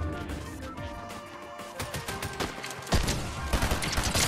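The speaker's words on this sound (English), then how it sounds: "Someone's shooting at me." Video game gunfire: scattered shots and crashes build into louder rapid bursts in the second half, set against a busy, layered game soundscape.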